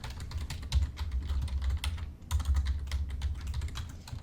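Rapid typing on a computer keyboard during a drafting class, dense clattering keystrokes with a brief pause midway, close and clear with no speech.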